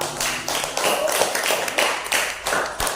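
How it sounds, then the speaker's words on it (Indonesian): A short burst of applause from a small group of students in a classroom, scattered claps rising and falling over a few seconds. "Tepuk tangan untuk kelompok."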